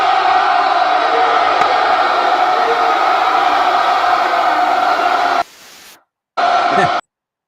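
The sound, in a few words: crowd cheering sound effect played on radio show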